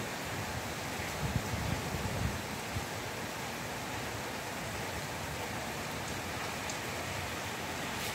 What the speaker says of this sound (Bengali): মুষলধারে বৃষ্টি হচ্ছে বাইরে।